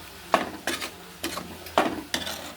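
Vegetable biryani with coconut milk being stirred in a pot, five scraping, swishing strokes of a spoon in a steady rhythm, close and fairly loud.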